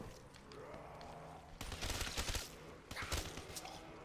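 Weapon reloading and firing in the Call of Duty zombies map Kino Der Toten, with quieter game ambience and then two loud bursts of rapid gunfire close by.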